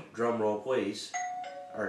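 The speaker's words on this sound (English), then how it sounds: "that's a doorbell, excuse me" A two-tone doorbell chime rings out clearly after a man's quick spoken line, its ding-dong notes ringing steady and close.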